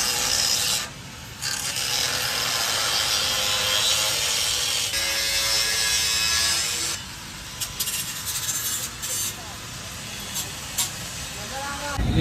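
An angle grinder cuts metal on a Swaraj tractor, a loud, harsh continuous grinding that stops briefly and restarts several times.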